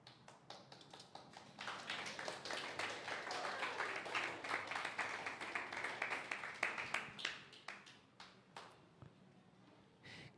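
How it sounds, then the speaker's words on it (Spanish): A church congregation applauding, a soft rattling patter of many hands that swells, holds steady, then thins out into scattered claps before fading. "Gracias por aplaudir la palabra del Señor."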